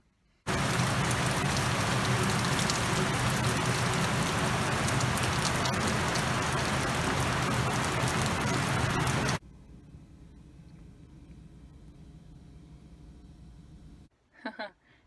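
Steady, loud downpour of rain hisses evenly for about nine seconds, then cuts off abruptly to a quiet background murmur, with a brief close knock near the end.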